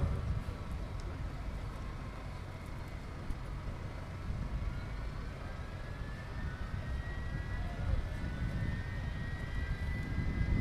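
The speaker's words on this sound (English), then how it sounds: "Vulcan sitting out, waiting to go." An Avro Vulcan jet bomber sits out at the Farnborough airshow with engines running, a broad steady distant roar with a slowly rising whine over the crowd-side ambience, no talking.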